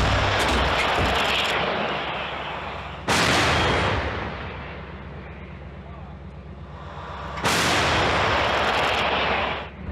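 Two massive artillery blasts from a 2S22 Bohdana-class KRAB self-propelled howitzer boom out a few seconds apart, each followed by a long rumbling echo that slowly fades, very loud and close.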